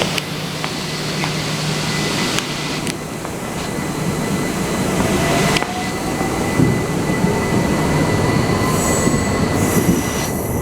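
A Southeastern Class 375 electric multiple unit train runs through Tunbridge Wells, a steady close rumble of wheels and motors with squealing from the rails and a rising electric whine, and no one speaking.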